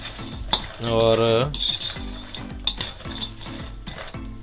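Walnuts stir-frying in desi ghee for dry fruit panjiri, a spoon scraping and clinking against the pan in a steady rhythm over a soft sizzle, with a brief voice heard in the middle.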